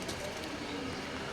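Racing pigeons coo softly on a rooftop, a faint, low, brief burble against quiet background noise.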